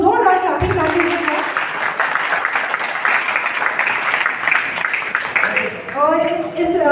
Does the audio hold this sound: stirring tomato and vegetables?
no